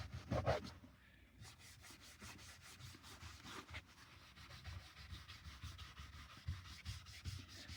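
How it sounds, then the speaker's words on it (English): A brush scrubs the interior of a Dacia Jogger with light pressure, making a faint, rapid, continuous scratchy rubbing that goes on steadily without speech. "I'm just giving it that little scrub."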